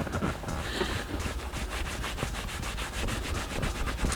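Microfiber towel rubbing leather cleaner into damaged car leather upholstery, a steady close scrubbing texture with rhythmic back-and-forth strokes running the whole time, no voices.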